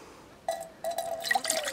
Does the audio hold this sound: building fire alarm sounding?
no